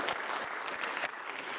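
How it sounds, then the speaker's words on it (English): Brief burst of audience clapping, many hands at a moderate distance, steady and unbroken for a moment. "Go ahead and give her a round of applause as you make your way up here."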